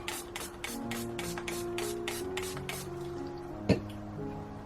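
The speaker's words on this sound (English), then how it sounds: "I think I'm going to spray a little bit of alcohol on top." A run of short, hissing bursts spraying alcohol onto cold process soap repeats at a steady rhythm, followed by one soft knock, over a low background hum.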